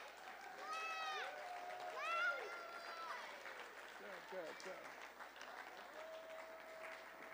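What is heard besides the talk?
audience clapping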